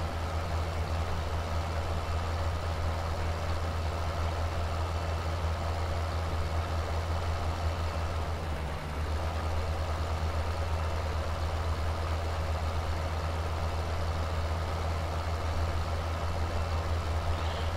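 A tractor in the video game Farming Simulator 17 idles steadily, a deep, constant low diesel rumble with a brief dip partway through, no voices over it.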